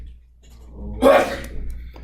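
A single short sneeze, fairly close, in an otherwise quiet room with low background hum.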